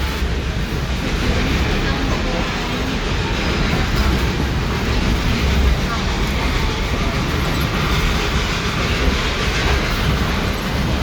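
Reading and Northern #425 steam excursion train rolling through the Lehigh Gorge, a steady loud rumble of wheels on rail with rhythmic clickety-clack and broad, constant track noise throughout, no talk.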